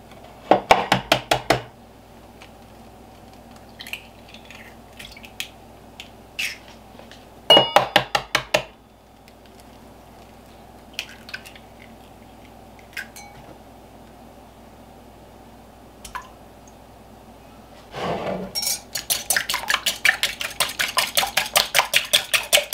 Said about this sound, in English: in this bowl I'm going to beat 2 eggs